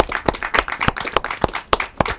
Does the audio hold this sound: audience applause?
yes